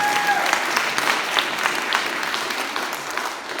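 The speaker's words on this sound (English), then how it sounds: "You can applause for this school. That's okay. That's some applause." Audience applause at Oregon State University College of Business's 2019 Dean's Transfer Student Welcome, a steady dense patter of many hands clapping, moderately loud and continuous throughout with no voices over it.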